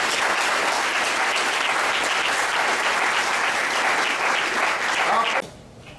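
An audience in a hall applauds loudly and steadily, a dense wash of clapping that holds for over five seconds and then drops off sharply.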